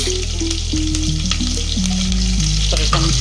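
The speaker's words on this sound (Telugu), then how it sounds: "ఈ తరిగి పెట్టుకున్న 2 పచ్చిమిర్చిని వేస్తా ఉన్నాను." Chopped green chillies hit hot oil in a pan and fry with a loud, steady sizzle and crackle, close by, with stirring scrapes mixed in and no voices.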